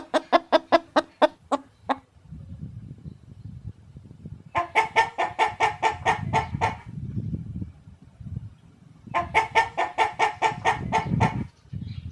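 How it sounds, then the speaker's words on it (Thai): Chickens raised on a farm cluck and cackle in three rapid, rhythmic bursts, loud and fairly near, with quieter low rustling and murmuring between the bursts. "ได้ยินเสียงไก่ที่นี่เขาจะเลี้ยงไก่"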